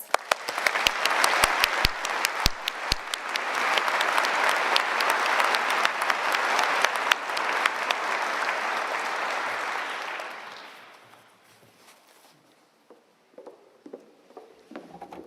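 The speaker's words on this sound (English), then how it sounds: "let's have a round of applause for our graduates" Convocation audience applauding graduates in a ceremony hall, a large crowd clapping loudly and steadily for about ten seconds before fading into scattered claps and a quiet room.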